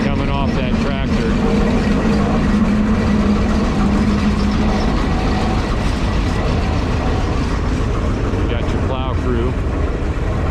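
A Minneapolis Moline tractor engine runs loud and steady at a 2021 Half Century of Progress show, with its continuous rumble close by and crowd voices mixed in.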